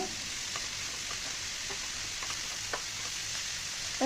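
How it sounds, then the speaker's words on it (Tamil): Spinach stirred into a masala base in a pan for a palak moong dal curry, giving a steady broadband sizzle throughout with a few soft spatula scrapes and taps, no talking. "அந்த கீரை இதோட சேர்த்துக்கலாம் சேர்த்துட்டு நல்லா வதக்கி விட்டுக்கோங்க"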